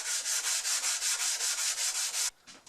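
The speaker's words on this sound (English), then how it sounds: "I'm going to start off with some 220 wet and dry to get the majority of it off. And we'll just wet sand it." Rhythmic back-and-forth strokes of 220 grit wet and dry sandpaper on a block scrub a 1910 Disston D-8 saw plate, about a dozen even, close rasping passes before stopping.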